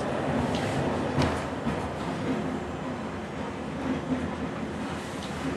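A steady rumbling roar of a train rolling past close by on the Helsinki-Viikki rail line, with faint rhythmic clatter and no talking.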